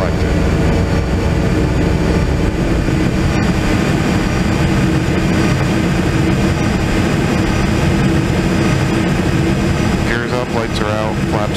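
An airliner's jet engines roar loud and steady through takeoff and climb in the FSX flight simulator game, with a low rumble that never lets up and a voice speaking over it.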